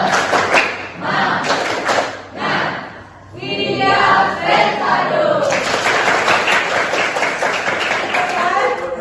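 A group performs a rhythmic spirit clap (tepuk semangat): short bursts of clapping in a patterned beat, followed by voices and crowd noise near and loud.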